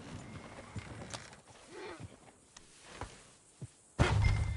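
Horse hooves clip-clop in the video game Red Dead Redemption 2, as soft, scattered thuds over a quiet background. A heavier burst of noise comes near the end.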